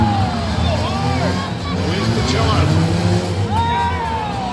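Several demolition derby cars at the OC fair run together in a loud, steady engine roar, with revs rising and falling and a crowd or announcer voice mixed underneath throughout.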